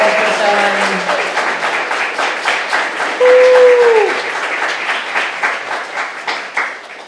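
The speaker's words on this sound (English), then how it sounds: "Can we applaud again for everyone in the open mic?" An audience at an open-mic poetry reading gives sustained applause, a dense wash of clapping at close range with a few voices cutting through.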